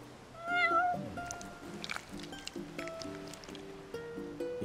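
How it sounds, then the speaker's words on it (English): A cat in the video game Final Fantasy XV gives a clear, drawn-out meow near the start, followed by soft rustling and a quiet looping musical backdrop with faint tonal notes. "You're one spoiled cat."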